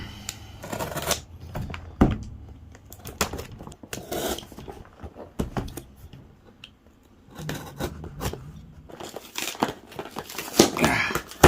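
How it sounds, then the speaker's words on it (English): Tape is cut and packaging opened on an Insta360 One X2 camera box, with close crinkling, tearing and scraping of cardboard and plastic in uneven bursts, no talk. "Cut the tape."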